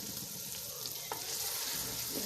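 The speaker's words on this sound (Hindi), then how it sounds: "अब हम इसमें ये सारे मसाले डाल देंगे।" Spices frying in a pan for an aloo matar chicken salan, a steady close hiss of sizzling oil with a faint scrape of stirring, no voices.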